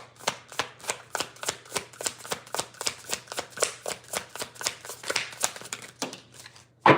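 Tarot cards riffled and shuffled in a fast, even run of about twenty crisp slaps, close and clear, ending with a single sharp snap as a card is drawn.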